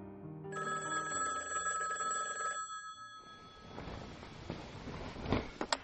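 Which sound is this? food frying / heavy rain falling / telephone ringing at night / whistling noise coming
telephone ringing at night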